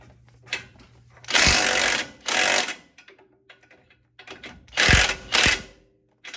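An impact gun loosens an 18 mm strut bolt during a Bilstein leveling kit install, heard as several short, loud bursts of whirring and hammering separated by quieter gaps.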